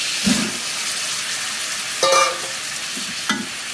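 A pan of frying vegetable bhaji is stirred, its soft continuous sizzle broken by three sharp utensil clinks and scrapes against the pan.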